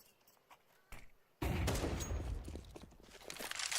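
AK rifle fire in Counter-Strike erupts as a loud, sustained burst after a quieter stretch of scattered game noises, continuing to the end.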